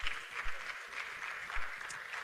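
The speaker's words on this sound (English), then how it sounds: "Please, let's clap for Jennifer Ebe." An audience at a DataFest Africa panel applauds a speaker, a brief, dense patter of clapping with uneven surges that stays at a moderate level.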